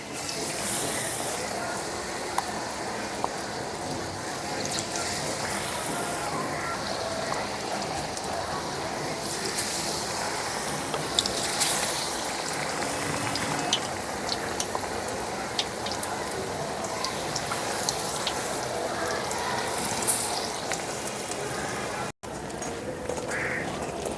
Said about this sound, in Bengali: একইভাবে সবগুলো বেগুনিগুলোকে ভেজে নেব।